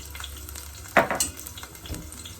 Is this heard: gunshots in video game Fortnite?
no